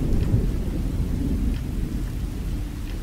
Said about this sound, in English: the sound of the rain and the rumbling thunder in the background